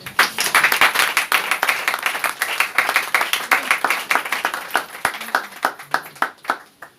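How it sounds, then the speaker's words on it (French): A church congregation claps and applauds in praise, a dense, steady patter of many hands filling the room with a few sharper individual claps, continuing for several seconds without speech. "On acclame le Seigneur."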